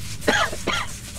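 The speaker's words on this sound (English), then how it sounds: "Who's coughing?" Two short, close coughs from one person, sharp and throaty, separated by a brief pause, with no talking around them.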